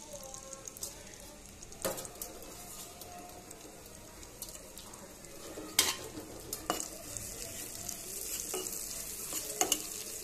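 Vegetables crackle softly while frying in oil until crisp, with a low steady sizzle and occasional sharp pops and scrapes of stirring.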